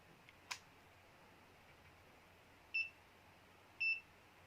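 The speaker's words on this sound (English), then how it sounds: "It appears to make a self-test, and after 2 beeps, measurements can already be taken." Kyoritsu KEW 2046R AC/DC true RMS digital clamp meter running its self-test: a faint click, then two short electronic beeps about a second apart in a quiet room.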